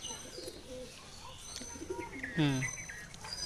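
Madras pigeons coo softly in a loft, with low throaty rolling calls and one louder, nearer coo, while a voice speaks over the birds.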